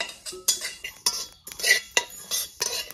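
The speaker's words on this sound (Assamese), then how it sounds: "এতিয়া গোটেইখিনি মই মছলা খালি কেৰাহীত ভাজি লৈছোঁ" Spices dry-roasted in an empty kadai while being stirred, with repeated close metallic scrapes and clinks of a spoon against the pan in an uneven rhythm.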